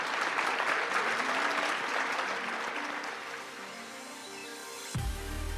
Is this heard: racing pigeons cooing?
no